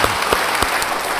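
A church congregation breaks into applause during a sermon, a brief, even burst of many hands clapping together that fills the room.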